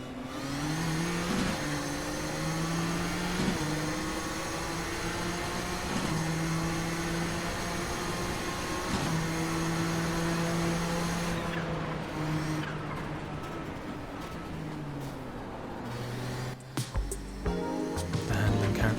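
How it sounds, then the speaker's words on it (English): The turbocharged Nissan GTP ZX-Turbo prototype in the iRacing sim roars at full throttle, its engine note climbing through gears with sharp shift breaks, then dropping off and sputtering near the end. "The turbocharged nature of the engine is very prevalent in the audio produced by iRacing"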